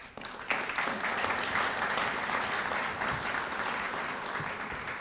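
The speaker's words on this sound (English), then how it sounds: "Please also give them a round of applause." Steady applause from an audience at a chamber of commerce annual meeting, a dense wash of clapping that starts abruptly and holds fairly evenly for several seconds.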